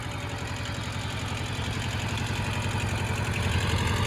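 A tractor engine idles steadily close by, a continuous low rumble with a regular throbbing pulse and no voices over it.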